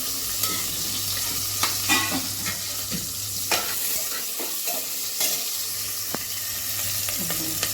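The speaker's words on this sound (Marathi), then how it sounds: "आता हे मी मसाला चांगला हलवते" A spoon scrapes and stirs through sizzling masala for chicken curry in a pan, a steady hiss with repeated close scraping strokes.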